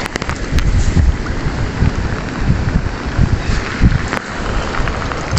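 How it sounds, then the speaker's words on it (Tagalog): Heavy rain pouring outdoors, a loud continuous hiss with low rumbling beneath and a few sharp taps, steady throughout with no talk. "Grabe lakas ng ulan."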